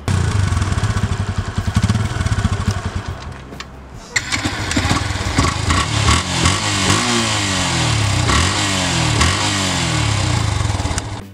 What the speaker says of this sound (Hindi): अब दोनों बाइक के एग्जॉस्ट को नोट करते हैं।